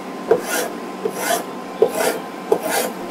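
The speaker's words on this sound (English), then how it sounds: "It certainly helps to have like a scraper." A hand scraper stripping the old finish off a wooden buffet during a furniture renovation, four steady rhythmic rasping strokes, each opening with a sharp catch, close and loud.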